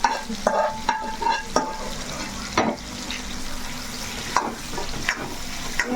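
Sea prawn curry with gongura leaves is stirred in a sizzling pot, the spoon scraping and clinking in irregular strokes over a soft, steady frying hiss.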